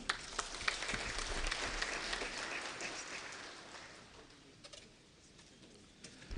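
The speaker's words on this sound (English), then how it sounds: "another round of applause to our chief guest" Applause for the chief guest at a pension fund's annual general meeting, faint and distant, a steady patter of clapping that gradually dies away before a few last claps.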